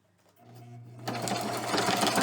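A sewing machine stitches scrap paper ruffles. It starts with a soft whir, then runs at a loud, steady, fast hum close by, with no talking.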